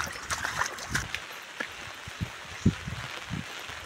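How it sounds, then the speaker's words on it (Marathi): Rainwater running along a road after a downpour trickles and splashes unevenly, with scattered drips and small gurgles close by. "हा बघा पाण्याचा आवाज बघा, रस्त्याला उपलडी"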